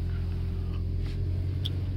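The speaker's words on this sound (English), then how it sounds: "you can still hear motor" Low, steady rumble of a 2016 Toyota Yaris Hybrid's motor running in drive on a snowy Swedish day, a constant hum with no speech.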